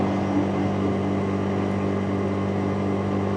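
A Lemoto R66+ motorcycle engine holds steady just under 6,000 RPM on a long test ride, giving a loud, even, continuous drone with no talking.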